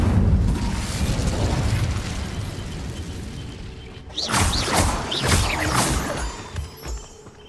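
A fire spell blast from a Harry Potter video game: a loud booming roar that rumbles and fades, then a fresh burst of crackling, whooshing flame pops, close and forceful.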